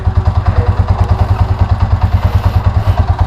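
A motorcycle engine warms up at idle, a loud, close, even thumping pulse of rapid regular beats that holds steady throughout, with no one talking.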